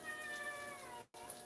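Black and white house cat meowing indoors, a single faint drawn-out tonal call with a brief pause near the end.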